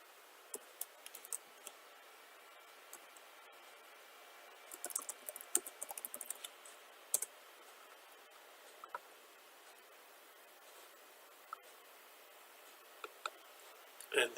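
Typing on a computer keyboard: faint, scattered key clicks, with a quick flurry of taps in the middle and isolated single presses before and after, in a quiet room.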